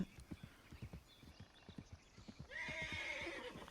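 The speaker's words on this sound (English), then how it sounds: "looks like my horse Hengrown is close by." Rhythmic clip-clop of hooves trotting close by, followed by a horse's loud, shrill whinny near the end in Red Dead Redemption 2.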